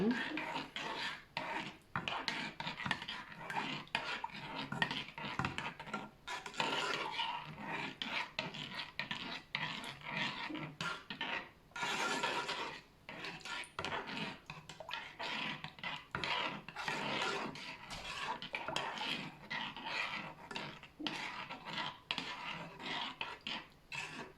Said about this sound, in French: Et je vais pouvoir mélanger avec mon gel. Donc, on remue bien.